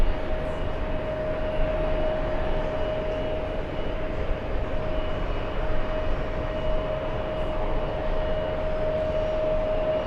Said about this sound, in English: Let's go for the next arrival. We have Speedbird, big 777.